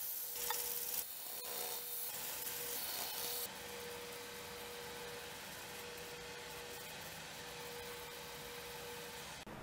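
Steady hand sanding on a chokecherry wood vase, a continuous raspy rubbing that runs close and fairly quiet, slightly louder and brighter at the start.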